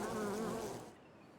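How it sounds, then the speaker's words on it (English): Bee-like buzzing from a shrub in the colony-building game Timberborn, a steady droning hum that holds for about a second, then fades down into quiet background. "Why it sounds like bees, I'm not sure."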